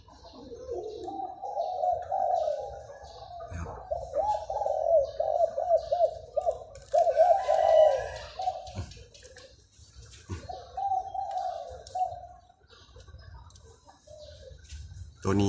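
A dove-like bird coos its 'si kuk ha kuk' call close by in a morning setting, with several rolling phrases, pauses between them and faint background noise.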